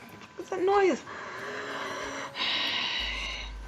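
A voice imitates heavy, noisy breathing: a loud rasping gasp followed by long, hissy exhalations, close up.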